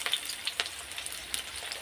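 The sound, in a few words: onions frying in oil with black cumin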